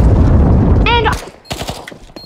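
Gunfire in a Counter-Strike match, quick cracking bursts and sharp shots, loud and close, with a brief tonal game sound and shouting mixed in.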